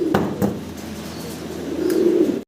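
Large Lahori pigeons cooing in a loft, a few soft low coos close by at the start and end of a short stretch, with faint background noise between them.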